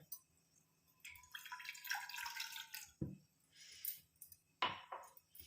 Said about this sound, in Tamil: இப்போ இதில் நம்ம 1 டம்ளர் அளவுக்கு நான் தண்ணி சேர்க்க போகிறேன்.